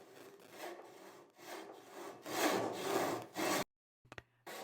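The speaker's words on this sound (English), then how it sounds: "Saw along the scribed lines to the depth line as marked from the edge." A hand saw cuts wood for a bridle joint in steady, close back-and-forth strokes that build in loudness, then stop abruptly before a few faint taps.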